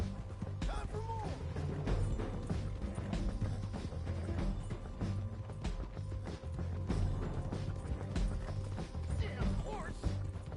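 Rhythmic hoof clip-clop from a horse in Red Dead Redemption 2, steady and close, with music and voices layered over it throughout.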